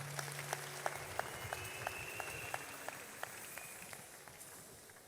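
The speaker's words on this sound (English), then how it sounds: "Give Jesus a clap offering" A church congregation gives a clap offering during a prophecy service, with continuous applause and rhythmic claps spread through a large room, moderately loud and steady.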